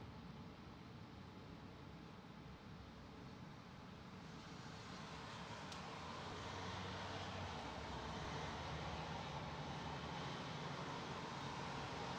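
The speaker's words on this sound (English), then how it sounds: "Looks like an A319 to me." Airbus A319 airliner passing over Heathrow, a steady broadband jet roar that swells gradually and holds at a fairly loud level with no voices.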